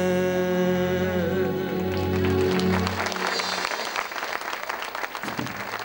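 A theatre audience breaks into dense applause after a sung ballad, the clapping swelling as the last held notes fade, then continuing as a steady crackling wash from a large crowd.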